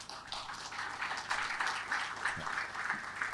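Audience applause during a keynote speech, a sustained patter of many hands clapping at moderate level, steady for several seconds without letting up.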